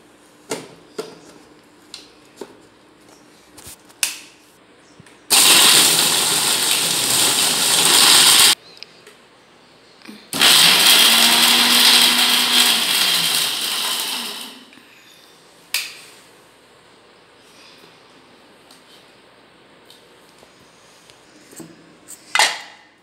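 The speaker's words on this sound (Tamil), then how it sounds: "இப்போ இதை நம்ம மிக்சியில் போட்டு அரைக்க வேண்டியது தான்." A mixer grinder blending mandhi spice masala runs in two loud bursts of several seconds each, with a short pause between. Light clicks and handling knocks come before and after.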